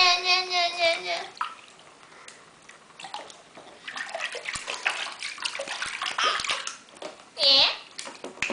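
A small child being bathed in a bathtub, with intermittent water sloshing and splashing close by, mixed with a child's vocalizations and adult speech throughout.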